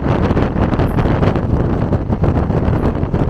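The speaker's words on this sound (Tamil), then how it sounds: "சரியான காற்றடிக்குதுங்க." Loud, steady wind roaring and buffeting the microphone, a constant rushing gust blowing past a high-speed moving train.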